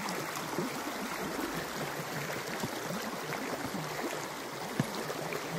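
A stream flows steadily with a constant rushing, gurgling wash, close and fairly loud, with no voices over it.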